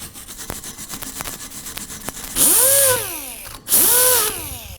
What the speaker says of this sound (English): We're going to start with a wire brush